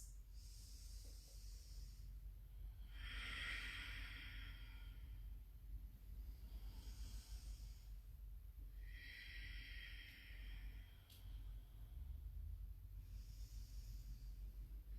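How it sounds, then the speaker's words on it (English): Slow, deep breaths during a yoga stretch, each long hissing inhale and exhale rising and fading at an even pace, faint and close, with no talking. "3 more breaths."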